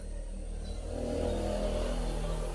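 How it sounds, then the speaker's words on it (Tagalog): Motorcycles, likely habal-habal motorbike taxis, passing on a cold provincial road, a steady engine rumble that swells slightly as a bike goes by, with no talk. "Oh, ang daming dumadaan na sa mga motor."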